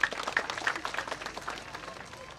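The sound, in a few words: crowd applause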